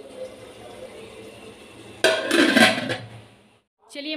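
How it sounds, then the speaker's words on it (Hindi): A lid is set onto a pan of frying masala for mutton kaleji, giving one close, sharp metallic clatter and rattle that lasts about a second and rises over a faint sizzle before fading. "तो चलिए मैं इसको ढक देती हूँ।"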